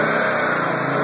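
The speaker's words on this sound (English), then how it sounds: "I'll rev it up for you, just so you can kind of hear what it sounds like here" A 1998 Subaru Outback wagon's H4 boxer four-cylinder engine, five-speed, revving steadily and loudly up close, a continuous dense mechanical drone holding high for about a second.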